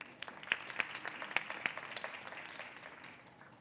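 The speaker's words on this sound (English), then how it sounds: "give her a big round of applause" An audience at a tech innovation and entrepreneurship event applauds a speaker. Scattered individual claps stand out at first, then soften and thin into a fading patter toward the end.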